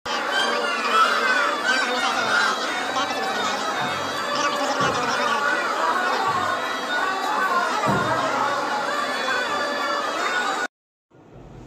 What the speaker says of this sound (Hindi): यहाँ पर लगभग हमेशा ही भीड़ बनी रहती है